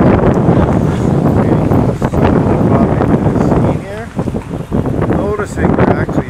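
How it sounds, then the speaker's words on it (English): Gusty wind buffets the microphone with loud rumbling on a Montreal street at summer solstice sunset, easing briefly while a person speaks. "A little windy."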